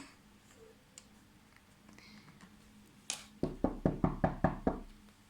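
Knocking on a door in a home, a brisk series of about eight sharp, close raps in steady rhythm after a quiet stretch with a single louder thud.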